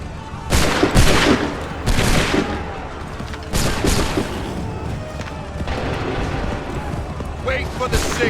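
Musket volleys in Assassin's Creed III, a few loud crashing bursts of massed gunfire spaced a second or two apart amid battle ambience, with shouted voices heard between them.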